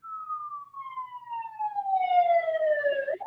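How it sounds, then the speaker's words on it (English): A lone siren sound effect wails in one long descending tone, loud and close, with no voices. "a siren."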